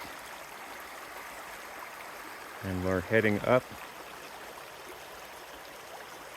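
A shady mountain creek flows steadily on a Lundy Canyon hiking trail in the California Sierra, its constant soft rush running beneath a man's brief speech.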